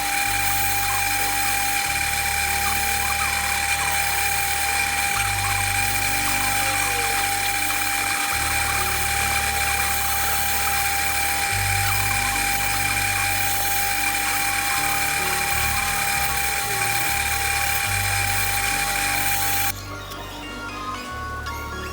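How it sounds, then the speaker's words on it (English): A drill boring into the wood of a guitar neck pocket during a guitar build, a steady high whine over a lower motor hum that shifts pitch in blocks as the bit bites and eases, ending with a brief change near the close. "So I've roughly drilled it out."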